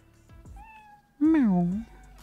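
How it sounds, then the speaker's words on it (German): A cat in the Cafe Owner Simulator video game gives a single clear, drawn-out meow that rises and falls, loud and close, after a few soft short sounds and a faint faraway tone. "Miau."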